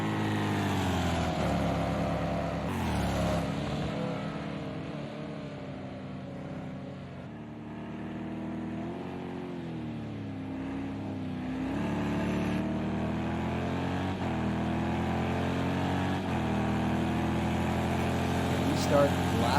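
GTE race cars at Le Mans, a Corvette, a BMW, two Porsches and a Ferrari, roar past in a pack, their loud engines rising and falling in pitch through gear changes and overlapping as they pass.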